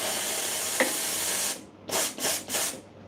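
Steady broadband hissing of steam from a coffee machine boiler, followed by three short bursts of louder hiss with brief pauses between them.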